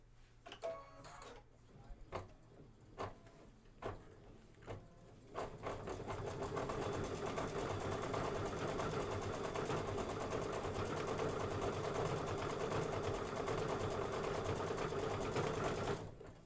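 A sewing machine stitches a quilt block for a Kimberbell sew-along, starting with a few separate clicks and thumps, then settling into a long, even, continuous run of rapid stitching.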